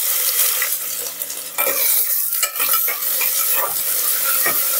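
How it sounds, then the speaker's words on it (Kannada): Onions fry in hot coconut oil in a pressure cooker, giving a loud, continuous sizzle. Metal scrapes and clinks from stirring recur throughout. "ಈರುಳ್ಳಿ ಹಾಕೋತಾ ಇದ್ದೀನಿ."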